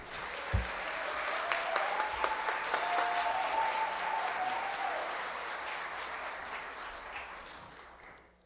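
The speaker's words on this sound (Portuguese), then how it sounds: "Uma salva de palmas, gente." Sustained applause from an audience at a formal Tiradentes Medal awards ceremony in a legislative chamber, a steady dense clapping that continues for several seconds and then fades out.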